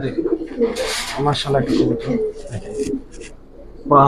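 A Giribaz pigeon in chocolate surma khaki colour coos in low throaty bursts nearby, the calls overlapping with someone talking and breaking off before a louder coo at the end.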